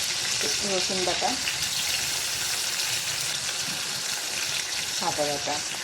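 Chopped onion and garlic paste fry in hot oil for a coral fish bhuna, making a dense, steady sizzle throughout while someone talks briefly over it at the start and near the end.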